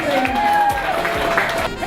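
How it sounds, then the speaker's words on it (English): Audience applause and cheering for chefs at a Los Angeles cooking competition, a steady dense clatter of clapping lasting the whole moment with voices and whoops mixed in. "give them all a round of applause"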